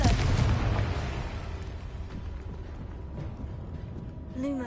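Confringo fire spell cast in the Hogwarts Legacy video game, a loud explosive burst at the start that rumbles and fades into a crackling blast tail, with a faint magical whoosh near the end.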